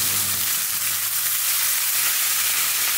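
Ground spices, coriander, cumin, turmeric and chili powder, fry in a pan with garlic paste, salt and small shrimp, a loud, dense, unbroken sizzle held close throughout, with no voices.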